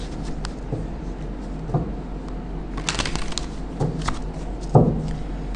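Tarot cards are shuffled and handled close by, with repeated crisp riffling bursts and soft slaps of cards being drawn and laid down, no voices.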